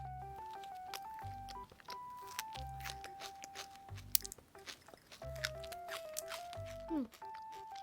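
Crunchy kadaif cream bread with chocolate and cream filling, a convenience-store snack, is bitten and chewed in several close, crisp crunching bursts under steady background music.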